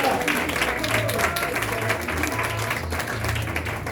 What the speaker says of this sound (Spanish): un aplauso, Señor, por eso